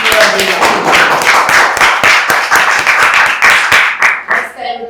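Audience at a Toastmasters club meeting clapping, a loud close burst of distinct individual claps in an uneven rhythm from a small group, continuing for a few seconds and dying away at the end.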